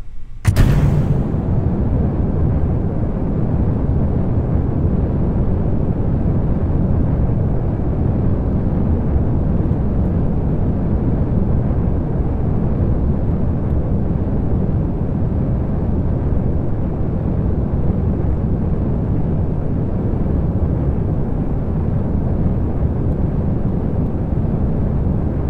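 A rocket engine at full throttle in Kerbal Space Program roars as a dense, loud, unbroken rumble that starts with a sharp burst and holds steady for over twenty seconds without talking.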